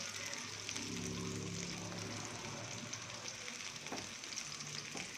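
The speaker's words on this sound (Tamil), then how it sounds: "பச்சை மிளகா 2, அதையும் நல்லா வதக்கிக்கணும்." Green chillies sautéing in a pan for a simple tomato chutney give off a soft, steady sizzle, with occasional stirring and scraping close by.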